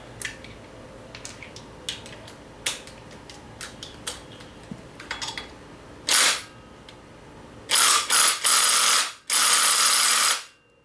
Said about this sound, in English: We'll try the electric gun and see if it's got enough torque to get it off.